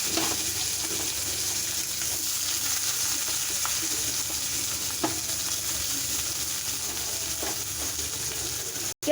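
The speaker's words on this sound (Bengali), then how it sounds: "এবার দিয়ে দেবো কুচিয়ে রাখা পেঁয়াজ কুচি" Steady crackling sizzle of chopped onions frying in hot oil, continuous and close, with a few faint clinks of stirring.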